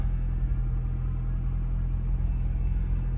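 A 2015–2017 Chrysler 200 engine runs with a steady, close, low rumble and no talking, heard after the transmission shifter replacement.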